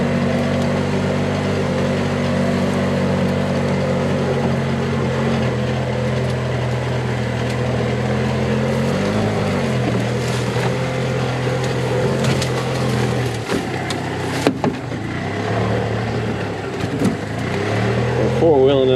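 A golf cart engine drones steadily and close while the cart drives through a wooded hillside, with its pitch dipping and rising briefly partway through.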